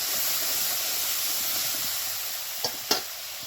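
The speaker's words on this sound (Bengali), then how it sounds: "আদা আর কাঁচা লঙ্কাটা তেলের ফোড়নের সাথে একটু ভালো করে কষে নেব" Ginger and green chili paste sizzles in hot oil for a vegetarian aubergine dish, with a steady soft hiss and two brief stirring clicks near the end, and no voices.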